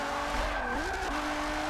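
A street-tuned car in Forza Horizon drives hard with tires squealing through a skid, the engine whining and shifting pitch mid-slide, loud and close without speech.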